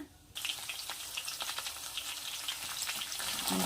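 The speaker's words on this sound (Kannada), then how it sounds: "ಈರುಳ್ಳಿ ಎಲ್ಲ ಹಾಕ್ಕೊಳ್ತಿದ್ದೀನಿ ನಂತರದಲ್ಲಿ ಇದನ್ನು ಸ್ವಲ್ಪ ಚೆನ್ನಾಗಿ ಫ್ರೈ ಮಾಡ್ಕೊಳ್ಳೋಣ" Onions and green chillies drop into hot oil tempered with mustard seeds and cumin, setting off a sudden bright sizzle that continues as a steady crackling fry with occasional stirring.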